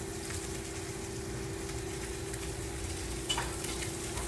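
Fish fillets coated in a quinoa, whole wheat and all-purpose flour blend fry in a pan, giving a steady close sizzle and crackle with a constant low hum behind it and a brief louder spatter near the end.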